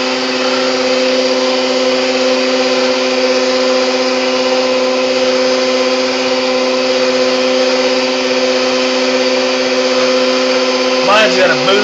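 A stand mixer beats cheesecake batter, a loud, steady motor whine with a constant hum that runs without letup, and a voice comes in briefly near the end.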